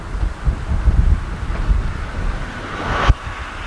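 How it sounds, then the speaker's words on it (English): Loud road traffic rushes and roars along a stretch closed in by trees, with the sound echoing back and forth. A steady, broad low wash swells and fades, and a single short thump comes near the end. "This section's extremely loud. You notice a lot of traffic, closed in by these trees."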